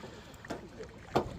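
Paddle strokes splash and swish as a canoe is paddled to shore with the wind behind it on a Swedish canoe trip, two distinct strokes rising over steady wind noise.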